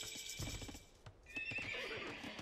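Horses neigh and whinny around a stable in an Age of Empires-style strategy game, with clip-clop hoof sounds and a bright, sustained whinny in the second half over busy game ambience.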